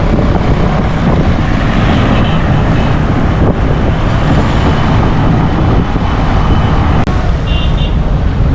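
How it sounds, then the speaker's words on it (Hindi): Strong wind gusts roar steadily across a microphone on a bridge in Karachi's Baloch Colony ahead of rain, a loud broadband rush blended with distant road traffic, no talking heard. "इस वक्त बहुत तेज़ हवा चलना शुरू हो चुकी है"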